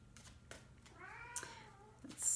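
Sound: Bengal cat meowing

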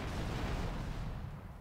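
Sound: explosions in GTA Vice City video game

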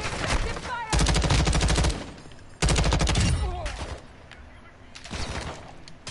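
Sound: incoming gunfire in a PS4 video game

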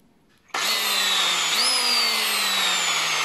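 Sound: power drill drilling 6mm holes in plastic top case plate

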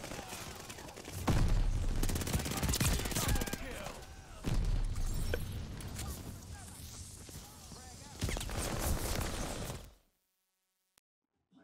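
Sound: SMG gunfire in single-fire mode, Call of Duty Vanguard video game

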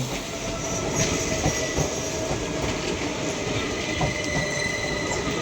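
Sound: passenger express train passing

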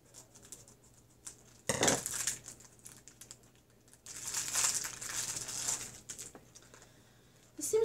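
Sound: tearing open the packaging of a necklace

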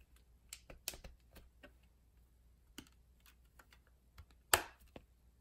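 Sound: ceiling fan part clicking as it snaps in

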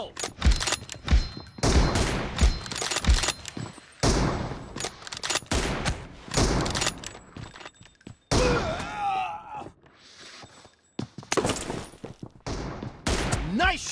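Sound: gunfire in BGMI video game

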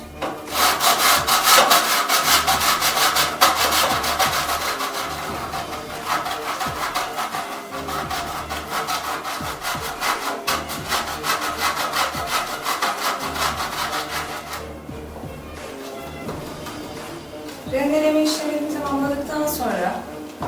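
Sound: grating olive oil green soap on the finest side of a grater

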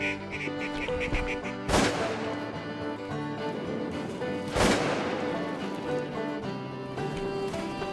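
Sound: ducks flying around Arkansas timber during a hunt

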